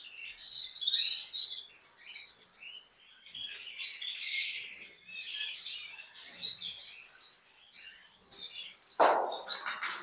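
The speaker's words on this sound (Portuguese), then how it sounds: "O pessoal que encomendou os adultos são esses passarinhos aqui, ó." Male canaries chirping and trilling nearby, rapid high warbling phrases repeating in bursts with short pauses, a sharper note near the end, and no talk.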